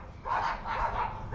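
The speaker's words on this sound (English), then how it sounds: "neighbor's dogs are going crazy." Neighbor's dogs bark from a nearby yard by a garden, a few rapid excited barks in a quick irregular burst, moderately loud and fairly close, with no talk.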